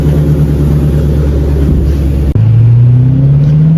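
A Dodge Challenger 392 engine rumbles and revs as the car drives in track mode, a loud, close, deep growl that briefly cuts out mid-way, then climbs steadily in pitch as it accelerates.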